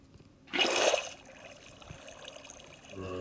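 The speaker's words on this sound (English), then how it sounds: "I'm gonna place your water near there" A short burst of splashing water appears in a Minecraft game, loud for about half a second and then fading into a soft, steady trickle.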